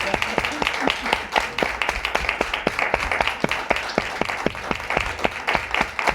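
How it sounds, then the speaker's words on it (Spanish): Audience applause for Sonia Saavedra at the close of her lecture on women and literature, a lively crowd clapping steadily and close by for several seconds with crisp individual claps standing out. "merece un nuevo aplauso a Sonia"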